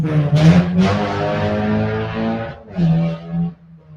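A loud car passes close by on a neighborhood street, its deep engine droning and rising for a few seconds before fading, with no talk over it.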